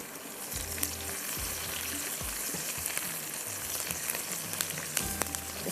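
Onion and curry leaves frying in hot oil, producing a dense, continuous crackling sizzle with occasional soft low thumps, close and steady throughout.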